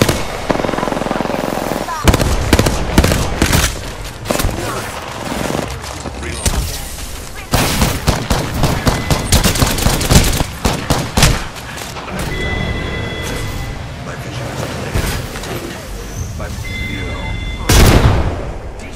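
Rapid gunfire rattles through an Apex Legends firefight, including Hemlock bursts, with dense volleys of sharp shots, short pauses between bursts and loud booming impacts throughout.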